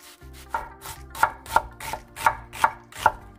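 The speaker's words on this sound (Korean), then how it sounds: "양파 반개를 잘게 썰어줍니다" Half an onion is finely chopped with a knife on a cutting board, giving about eight crisp, evenly spaced thuds in a steady rhythm, close and clear.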